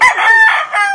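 A rooster crows once at close range, loud and clear with a rising then sustained harmonic call, standing alone with no talk over it.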